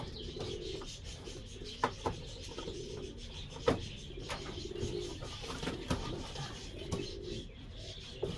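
A small hen pigeon coos softly in repeated low phrases, with occasional sharp clicks and taps nearby against a quiet background.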